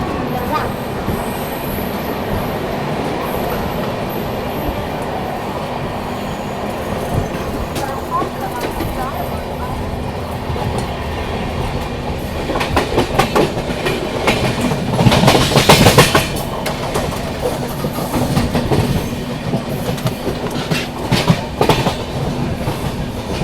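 The Mumbai CSMT to Hazrat Nizamuddin Rajdhani Express runs on the tracks in heavy fog, with a steady loud rumble and rolling clatter that swell midway as it overtakes another train.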